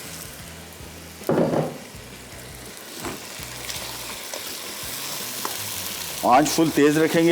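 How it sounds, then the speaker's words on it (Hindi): Beef pan-roasting over high heat for Delhi bhuna gosht gives a constant sizzle and clattering stirring bursts, with someone speaking briefly over the cooking noise. "पहले बीफ को भून लिया इसके साथ"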